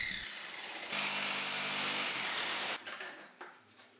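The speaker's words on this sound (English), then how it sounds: "I'll use a jigsaw to cut as required." A jigsaw rips through a laminate flooring board, a loud steady buzzing cut of about two seconds that stops abruptly, followed by a few fainter bumps and handling noises.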